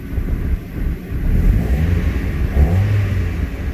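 Mazda Miata engine revving and pulling away under acceleration, a close, steady low growl with gusts of wind noise on the microphone and no talking.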